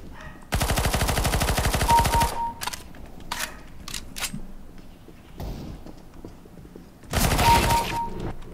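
Counter-Strike: Global Offensive gunfire, likely an MP5-SD, rattles in two long, loud automatic bursts, with single shots and short taps in between and no talk.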